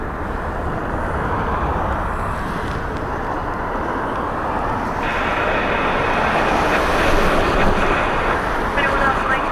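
An airliner lands on runway 16 at Dublin Airport in gusty crosswind, a loud, broad engine roar and rumble that swells toward the end, with wind noise over it.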